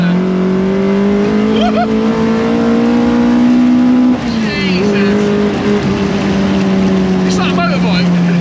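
An ex-racing Mk1 VW Golf engine with 240 bhp on twin 45 carburettors revs loud and close, a sustained high snarl that dips and rises as the throttle changes, with a short spoken exclamation over it.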